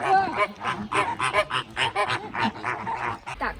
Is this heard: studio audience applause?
no